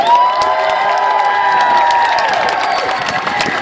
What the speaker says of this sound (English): make a really, really round of applause for all of our mothers who are present with us today